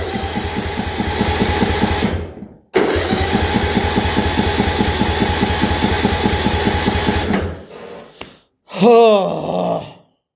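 A key-start lawnmower engine cranks with a rapid rhythmic chugging for several seconds, stops, cranks again, then sputters out and dies, followed by a short groaning whine.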